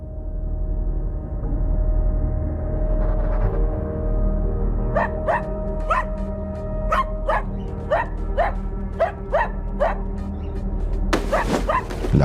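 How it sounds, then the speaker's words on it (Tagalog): A dog indoors at night barks repeatedly in a steady series of sharp barks, moderately close, over a low constant background hum. "Ba't ka ba tahol ng tahol dyan?"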